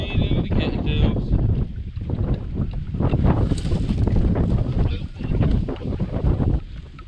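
Blustery wind buffeting the microphone on a kayak during clear-water bed fishing, with gusts of about 20 miles an hour rumbling in loud, uneven bursts while someone talks over it.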